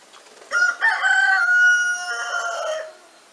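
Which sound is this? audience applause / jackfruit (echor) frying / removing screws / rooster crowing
rooster crowing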